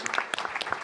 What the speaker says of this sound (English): That deserves an applaud.